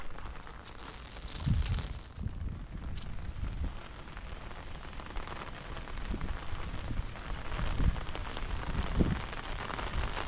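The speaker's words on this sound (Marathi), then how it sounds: "पाऊस बघा, पाऊस" Steady rain falls at a creek in Gorai, Mumbai, during the first monsoon showers while people are out fishing. A continuous broadband hiss runs throughout, with a few louder low thumps scattered among the patter.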